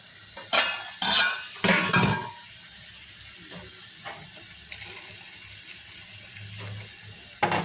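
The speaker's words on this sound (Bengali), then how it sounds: "আমি একটু পানি দিয়ে দিচ্ছি" Water splashes into a cooking pot in a home kitchen in a few short bursts with the clank of metal, followed by several seconds of near quiet.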